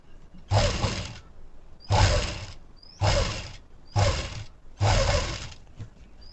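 A sewing machine stitches blouse fabric in five short whirring bursts of roughly a second each, separated by brief pauses, close and fairly loud with no talking.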